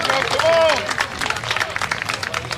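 Home crowd at South Paulding's high school baseball game clapping in scattered applause, mixed with a commentator talking over it and general crowd chatter.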